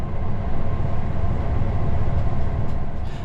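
A Class 59 diesel locomotive pulls a heavy train up a bank toward Imperial Wharf, giving a loud, steady, close engine roar and rumble throughout, with no voices.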